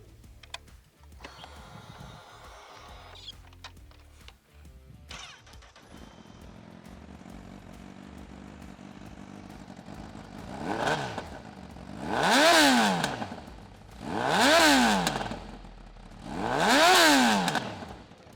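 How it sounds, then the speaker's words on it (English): A Honda CB1000 Hornet SP motorcycle with stock Euro 5 exhaust idles with a clattering start, then its engine is revved hard three times, each rising to a loud exhaust roar and dropping back. "this is a stock exhaust in the Euro 5 era that sounds this glorious"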